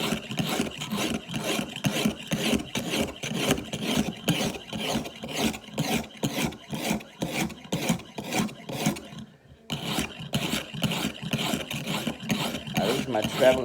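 Kitchen knife being ground on a sharpening stone from a travel kit, a steady, repetitive rasping of the blade stroked back and forth in quick, even rhythm, close and continuous with one brief pause.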